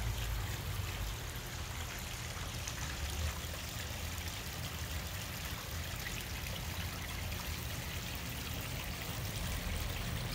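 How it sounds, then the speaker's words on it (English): A backyard waterfall spills into a stream, making a steady, soft trickling rush that stays faint and even throughout, with no speech. "So you've got a view of the waterfall, and then it streams all the way across."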